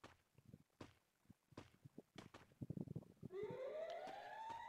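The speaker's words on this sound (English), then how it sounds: "As you hear the siren, that means the next zone is coming in." In the Free Fire video game, after scattered footsteps and clatter, a rising siren wail signalling the zone closing starts and holds, steady and fairly loud, with no voices.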